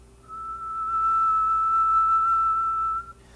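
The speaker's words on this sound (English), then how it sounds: "A whistle is almost a sinusoid, but as you'll see, isn't terribly sinusoidal." During a lecture demonstration of amplitude modulation, a person whistles a single steady, nearly pure tone that holds for about three seconds, alone over faint room hum.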